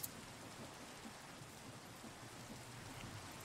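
Rain falls steadily in Minecraft on the Enigmatica 6 modpack, a soft, even hiss of drops that continues unbroken, faint and alone with no voices.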